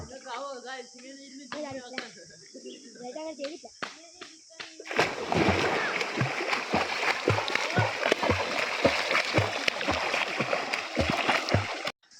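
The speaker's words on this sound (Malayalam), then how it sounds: "ഇനി നോക്കി എന്നിട്ട് ഇങ്ങോട്ട് നീന്തി അങ്ങനെ ചാടിച്ച് ഇങ്ങോട്ട് നീന്തി" Water splashes repeatedly as a child jumps in and swims, a steady run of close splashing and churning strokes that follows a few seconds of voices and scattered light splashes.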